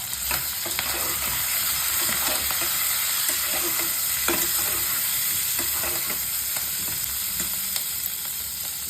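Large onions fry in a pan with a bright, continuous sizzle and hiss, punctuated by repeated scraping stirs of a spatula at an irregular rhythm.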